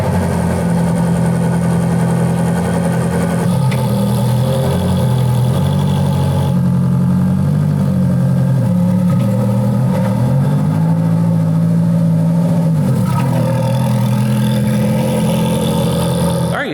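A silver 430 supercar with a freshly replaced clutch idles loudly and steadily up close, its engine note shifting and rising through several revs before settling back to a rumbling idle.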